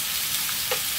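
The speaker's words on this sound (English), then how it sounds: "Fry those up a little bit." Sliced kielbasa frying in a pan, a brief burst of steady close sizzling with a faint utensil tick partway through.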